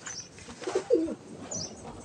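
A racing pigeon gives a couple of soft, low cooing calls close by, with a faint flutter of wings against a quiet outdoor background.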